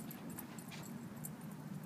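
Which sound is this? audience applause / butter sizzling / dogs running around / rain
dogs running around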